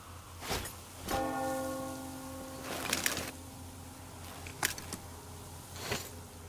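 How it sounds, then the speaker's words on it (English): A church bell tolls in the Metro Exodus game, several separate ringing strikes with long shimmering decays spaced a second or two apart, loud and fairly close over a low ambient hum. "Do you hear that bell?"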